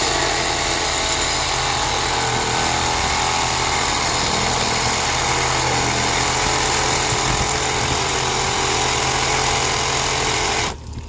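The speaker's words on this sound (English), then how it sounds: "Get your Sawzall started in there." A reciprocating saw cuts continuously and loudly through the body of a cracked pool sand filter, a harsh steady buzzing drone lasting about eleven seconds before it stops abruptly, close up with no talk.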